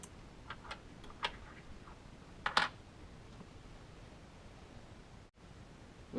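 A Raspberry Pi relay in a garage door opener setup ticks in several sharp, faint clicks spaced irregularly over a low steady hiss, with a brief brighter cluster midway and then quiet.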